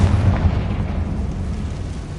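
A Confringo fire spell explodes in the video game Hogwarts Legacy, a loud, dense blast with deep rumbling that rolls on continuously for about two seconds, with no talk.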